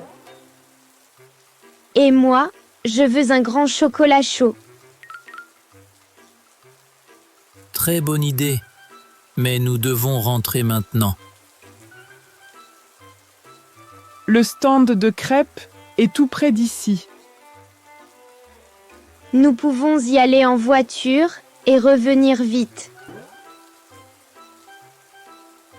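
Steady light rain falls in the background throughout, with several voices talking over it in bursts.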